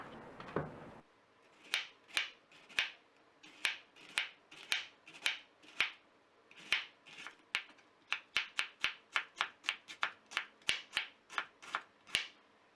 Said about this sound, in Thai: กระหล่ำปลีม่วงซอยเป็นเส้นเล็กๆค่ะ